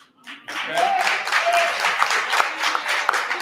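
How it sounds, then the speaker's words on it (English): Scattered audience applause at a Dolton village board of trustees meeting, a thin patter of claps rising after a short gap and continuing steadily, with some voices and murmur mixed in. "It really should have been a better clap"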